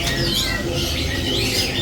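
A green leafbird (cucak ijo) squawks and chatters in loud, continuous, warbling calls close by, with no pauses.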